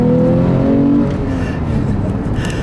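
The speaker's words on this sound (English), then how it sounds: "let's do a second gear pull now" A 2013 Porsche 911 Carrera with a manual gearbox pulls hard in second gear, its engine note rising loud and close before easing off near the end.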